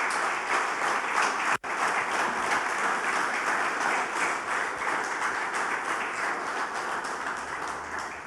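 A church congregation applauding, steady dense clapping from a crowd that holds at an even level for several seconds, with one sharp tap near the start and no speech over it.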